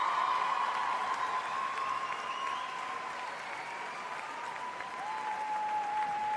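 Sustained applause from a large arena crowd at a Grand Prix de France men's free skating event, a dense, steady wash of clapping that fills the space without pause.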